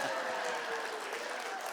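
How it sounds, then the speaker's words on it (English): Audience applause at a retiree honoring ceremony, a steady, even wash of clapping from a crowd that runs through without a break, moderately loud and fairly brief. "Y'all could have clapped a little bit more than that."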